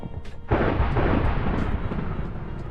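Loud rolling thunder in a rainy nighttime Minecraft (GregTech New Horizons) storm, a sharp crack near the half-second mark then a sustained deep rumble filling the rest, with no voices.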